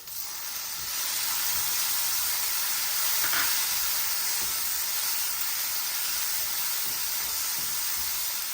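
Tomato added to rice in a hot pan for Mexican rice, a steady loud sizzle and hiss that rises and holds, with faint stirring and no talking.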